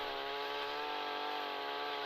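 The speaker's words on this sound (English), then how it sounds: "It is kind of funny to go from the second largest chainsaw made by Stihl to a Toro weedeater chainsaw." A Toro weedeater chainsaw attachment with a worn chain cuts a limb from an 85-foot pine tree, a steady, high, buzzing engine whine running continuously and fairly faint.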